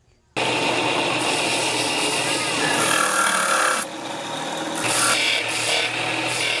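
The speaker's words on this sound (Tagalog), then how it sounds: "Saka ko siya hahasain ng pino." A knife blade is finely sharpened on a stone in a Taguig knife-making shop, heard as close, steady rasping strokes that start abruptly and pause briefly midway, with a voice in the background.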